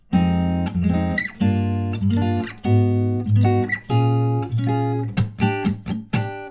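A guitar plays the interlude of a song, picking out a melodic line of ringing notes and chords, played alone and fairly close, with a quicker run of plucked notes at the end.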